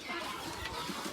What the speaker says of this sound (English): I've got a grown rooster in this end pen